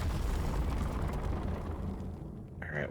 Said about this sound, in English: I just feel that's a big explosion coming.